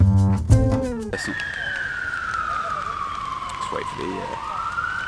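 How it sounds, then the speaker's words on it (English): A siren wails steadily with a long, slowly falling tone after a short burst of speech at the start, loud and close. "for the sirens to stop"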